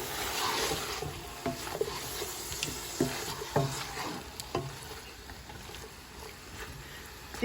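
Food being stirred with chicken bouillon powder in a pot, giving soft scraping and clacking strokes over a low sizzle at an irregular rhythm, with faint talk in the background.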